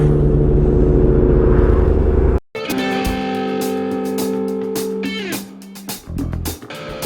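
Sport bikes pass by with a loud engine roar and strong harmonic whine that shifts pitch as the machines go past, the sound cutting off briefly before more bikes follow.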